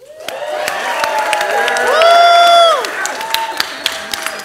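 A panel event audience cheers and applauds loudly, with a dense patter of clapping under whoops and shouts. The cheering swells to a peak midway, then eases back into scattered claps.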